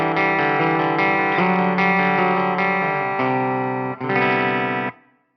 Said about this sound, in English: the default position that I use on every single guitar is just the bridge pickup with no push-pull engaged